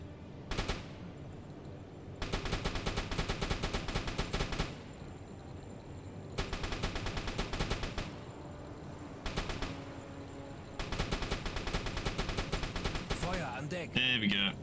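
Bursts of rapid automatic gunfire come in four long volleys separated by short pauses, aimed at a ship in the submarine game UBOAT, loud and close over a steady background hum.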